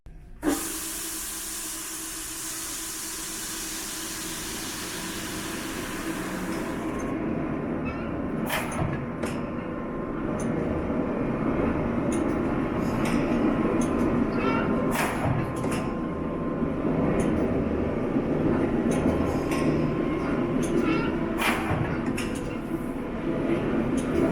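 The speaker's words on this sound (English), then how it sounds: "we run it off an electric motor now" A machine driven by an electric motor starts with a loud hiss, then settles into a steady mechanical rumble and clatter, with rhythmic knocks and occasional sharp clanks, up close.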